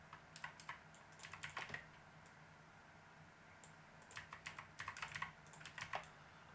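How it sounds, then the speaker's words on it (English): Clicky typing on a new computer keyboard comes through as quick bursts of keystrokes with short pauses between them, close and fairly quiet in a calm room. "if you hear my keyboard clicking, that is my new keyboard"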